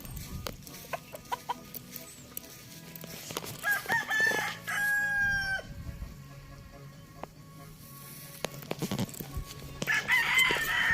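A rooster crows loudly twice amid steady clucking from several chickens at their roosting coop, with scattered background clatter.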